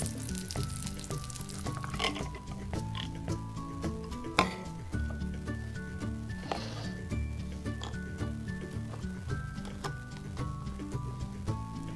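A burger patty sizzles steadily in a pan, with a constant crackle and a few louder pops and clinks under background music.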